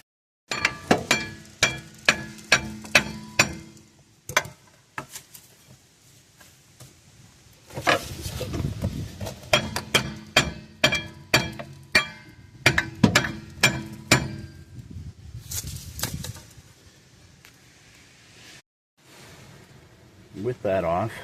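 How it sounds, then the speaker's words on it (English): A big hammer strikes a rear brake rotor to knock it off a police impound auction Lexus, landing in clusters of sharp, ringing metallic blows with short pauses and a few lighter clinks between. "Let me get a big hammer."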